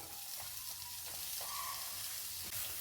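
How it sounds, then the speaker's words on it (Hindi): A small chopped onion fries in oil in a pan, giving a soft, even sizzle with a few faint stirring clicks, quiet and steady throughout. "प्याज को हम यहाँ पर 1 मिनट के लिए फ्राई करेंगे"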